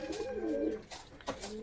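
Pigeons kept in a loft coo nearby, a couple of soft warbling, rolling calls close together, fairly quiet.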